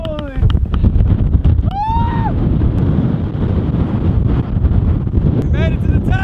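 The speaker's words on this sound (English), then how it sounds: "But it's super windy!" Loud, blustery wind buffets the microphone on a high Hawaiian lookout with continuous roaring rumble, while brief voices and whistle-like tones cut through.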